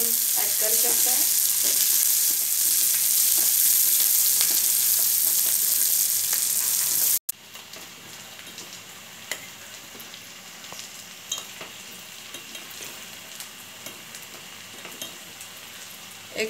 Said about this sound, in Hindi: कंदा फ्राई हो गया, अभी जो कैप्सिकम लिया वो ऐड कर दिया।